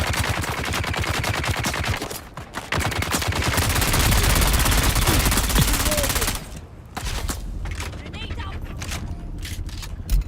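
Minigun fire in a Dune video game set on Arrakis rattles in long, loud, continuous bursts, briefly pausing, then resuming in choppier volleys to the end.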